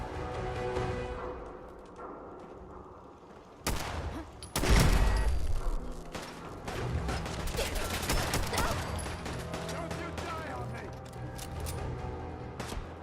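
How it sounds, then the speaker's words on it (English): Raider turret fire in a Fallout game: bursts of gunfire and impacts ring out through a busy battle mix, loud and repeated, with voices talking over parts of it. "Oh, look, there's another fucking raider turret."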